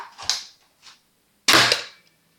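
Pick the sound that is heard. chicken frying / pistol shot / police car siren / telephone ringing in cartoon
pistol shot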